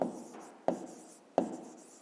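Pen writing on paper during a fifth-grade maths exercise: three short, soft scratching strokes in a quiet room, evenly spaced, with no talking.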